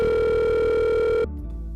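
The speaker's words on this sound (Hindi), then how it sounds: "जरा फोन तो लगाने दीजिए" A telephone handset tone holds steady and loud for about a second, then cuts off abruptly, leaving a low hum as a call is being placed.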